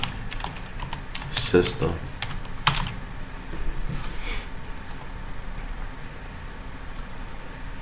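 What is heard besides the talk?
typing on a computer keyboard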